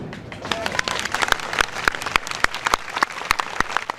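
Applause from health workers at a protest outside a metropolitan municipality building in Turkey, a scattered crowd clapping steadily with sharp individual claps and speech mixed in over the top.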